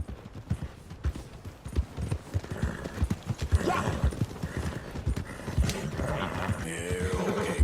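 Horse hooves clip-clop steadily in Red Dead Redemption 2 as a horse is ridden toward the stables, with a neigh rising among the dense, continuous hoofbeats.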